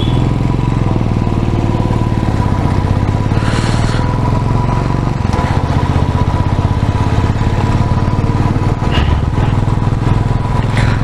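A motorcycle climbing the Agumbe Ghat hairpin bends, its engine droning loud and close throughout with shifting revs and some clatter, no talk over it.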